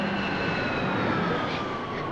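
An airplane passes overhead in a film scene, a loud, steady jet roar with a faint rising whine, heard alone without talking.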